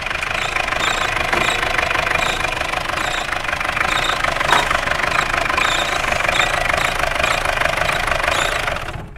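An old Peugeot 404 pickup engine idles steadily with a mild knocking, mechanical rattle. The running note is continuous, close and fairly loud throughout, with no talking.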